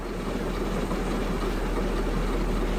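A steady, deep coal-burning steam locomotive rumble in a video game, with a constant low bass drone and faint mechanical chatter, continuous and fairly loud throughout, with no voices.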